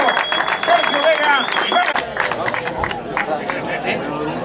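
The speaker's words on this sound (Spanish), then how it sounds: "Fuerte el aplauso para ellos" Outdoor crowd applauds the general classification podium at the La Pasadilla hill climb car race, steady dense clapping mixed with crowd chatter and a voice talking over it.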